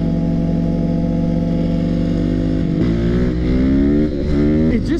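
A Yamaha WR450 dirt bike engine revving hard on a highway, climbing in pitch, dropping briefly on shifts, then climbing again. The note is loud and close, with a rising whine through each gear.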